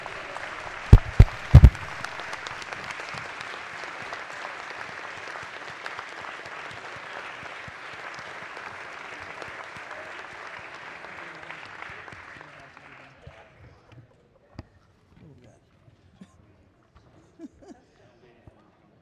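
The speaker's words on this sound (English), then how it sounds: "Please give them a round of applause." A sustained round of applause fills a state House chamber on the floor during a session, steady and dense for about twelve seconds before it thins into scattered claps and quiet.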